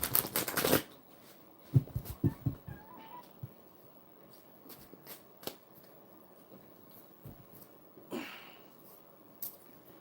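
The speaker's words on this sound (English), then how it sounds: "Can we have one card for the collective, please?" Tarot cards shuffled by hand: a loud riffle at the start, then scattered soft slaps and flicks of cards being handled and laid down, close by in a quiet room.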